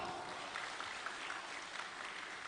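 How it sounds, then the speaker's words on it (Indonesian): Steady, fairly faint applause from a crowd at a national Christmas celebration, continuous clapping with scattered louder claps. "Tepuk tangan buat semua tokoh-tokoh Toraja yang ada di Makassar."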